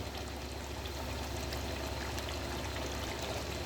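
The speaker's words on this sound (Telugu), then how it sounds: "చూడండి ఎలా ఉడుకుతున్నాయి అలా బాగా బాయిల్ అవ్వాలి" Egg curry simmers in a pan at a steady rolling boil, a continuous soft bubbling hiss with no pauses and no voices.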